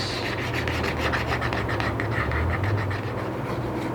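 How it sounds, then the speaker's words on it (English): Leather card holder edges are burnished by hand, giving a steady, continuous rubbing friction that stays close and even throughout with no pauses. "So after 2 to 3 minutes of burnishing, yep, it should have a very nice polished edge"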